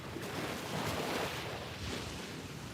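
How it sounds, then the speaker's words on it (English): Ocean waves washing in at a shoreline under steady wind noise on the microphone: a faint, continuous hiss and rush of surf with gentle swells, and no voices. "And hopefully you can hear the waves well too."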